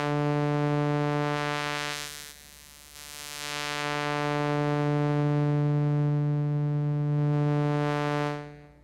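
A Mai Tai synth in Studio One 3 holding a steady buzzy harmonic tone through a band pass filter, its brightness sweeping up and down in slow waves over several seconds.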